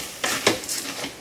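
Raw rice grains being fried in oil in a pot and stirred, with a few close spoon scrapes against the pot over a soft steady hiss.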